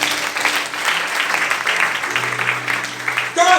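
A church congregation applauds and cheers steadily and loudly for Jesus, a dense continuous wash of clapping and voices with a brief sustained tone near the end.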